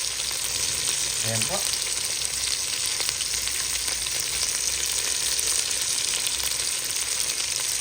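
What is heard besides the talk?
garlic, ginger, onion and chicken sautéing in a pan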